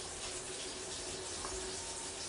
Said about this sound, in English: Rinse off my board.